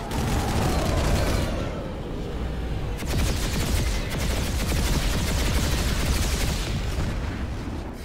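A shredder gun fires in the Scythe video game, long rapid bursts of rattling gunfire, loud and close, broken by short pauses between volleys.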